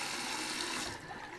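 A small amount of water poured into a shaving soap bowl with an anise, wormwood and mugwort scent, heard as a steady close running-water wash that eases off slightly toward the end.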